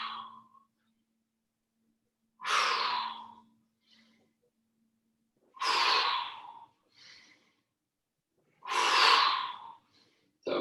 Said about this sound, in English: you can do stronger out breath on the descent